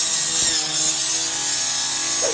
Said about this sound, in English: They have a huge circular saw. Instead of cutting the tree, they decide to cut through his Bronco.